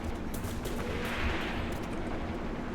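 Sustained machine gun fire and battle noise from the WWII tactics game Graviteam Tactics: Mius Front, a dense steady roar of gunfire holding at constant loudness throughout, with no distinct individual shots standing out.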